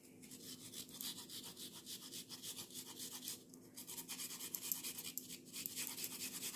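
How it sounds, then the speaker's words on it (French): Fresh ginger is rubbed against a small kitchen grater in quick repeated rasping strokes, close and fairly quiet, with brief pauses between bursts. "Là, je vais râper 1 cm de gingembre."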